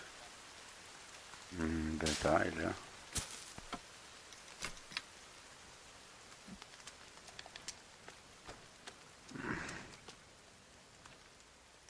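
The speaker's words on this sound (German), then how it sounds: "Es regnet, Baby." Rain falling in the survival game The Forest, a faint, even hiss with occasional tick-like drops, broken twice by a person talking.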